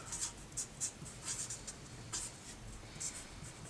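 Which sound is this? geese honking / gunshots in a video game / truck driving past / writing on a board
writing on a board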